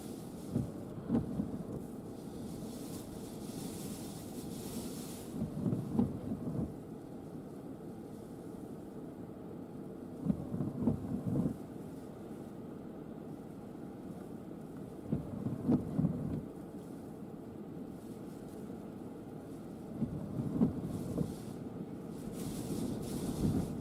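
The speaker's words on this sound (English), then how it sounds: "This wind, guys, is getting stronger and stronger and stronger." A strong winter wind storm on Donner Summit roars in deep, rumbling gusts that swell and buffet the microphone every few seconds over a constant blustery background.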